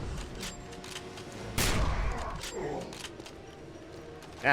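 Gunfire in a massive firefight in the video game Wolfenstein (2009): scattered sharp shots crackle throughout, one loud blast hits near the middle, and faint voices sit underneath.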